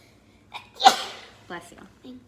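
A single sharp sneeze from a person in a classroom, with brief talk following it.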